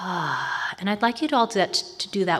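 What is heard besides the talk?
No distinct noise like a dog, phone or traffic.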